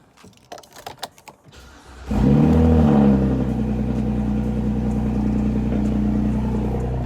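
A BMW E93 convertible cold starts after a few faint clicks: the starter cranks briefly, the engine catches with a loud flare of revs, then settles into a steady, close idle.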